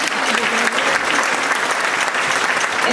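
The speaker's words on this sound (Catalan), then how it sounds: "Un aplaudiment per a ells." Loud, dense applause from an audience at a provincial folk dance gathering, honouring the folk group La Murada de Vilanova d'Alcolea; the clapping stays close and continuous throughout, with no voices over it.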